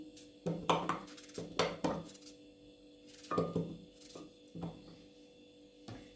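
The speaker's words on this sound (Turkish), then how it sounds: "Biraz şöyle küp küp doğruyorum." Knife chopping zucchini into cubes on a board, a series of crisp close thuds in short bursts with pauses between, no talk.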